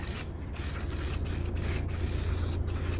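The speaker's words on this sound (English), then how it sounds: "this is a bit of satin spray paint. I'm just spraying it black" Satin black spray paint hissing from an aerosol can onto a homemade fake fire pit prop, a steady close spray broken by a few short pauses between bursts.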